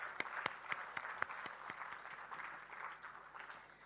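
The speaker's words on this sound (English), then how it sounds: "shall we give another big round of applause to all the awardees, the new members" An audience at a membership award ceremony applauds the new awardees, with several sharp distinct claps up front that fade into softer, thinning applause, moderately distant and without speech.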